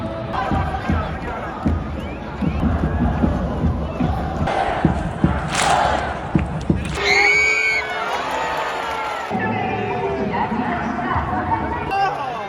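Football fans cheering and chanting in a stadium at a Daejeon Hana Citizen home opener against Gangwon, a loud roaring crowd with shouts and whoops, a spectator talking close over the din.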